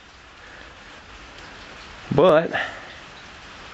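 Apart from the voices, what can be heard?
rain falling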